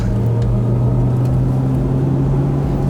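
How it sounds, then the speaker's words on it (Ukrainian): A low, steady engine-like hum with a sustained tonal drone, close and continuous: the synthetic engine sound of a Mercedes EQS electric car played through its speakers. "з динаміків є такий, будто в тебе двигун якийсь реве"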